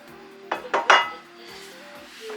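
Dishes being washed in a home kitchen sink, with three loud clattering clinks of plates and cutlery close by, followed by softer running-water and handling noise.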